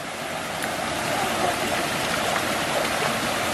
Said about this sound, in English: Ziggy and Aaron found a little creek to swim in, a little pool